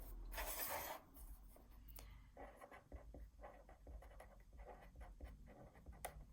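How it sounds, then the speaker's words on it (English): A pen or marker scratches across paper, drawing a diameter line through a circle in short, close, quiet strokes with small taps, with no talking. "So I'm going to go ahead and draw my diameter."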